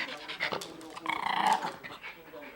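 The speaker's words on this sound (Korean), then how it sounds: "외출했다 들어온 막내딸을 보고는 깡충깡충 뛰는 게 아니라 오히려 더 짖어댄다" A house dog growls and pants at a young daughter returning home, a close rough rumbling snarl with breathy panting amid indoor household noise.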